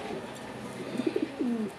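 A Lahori pigeon gives a few soft, low coos, close by, over faint background hum.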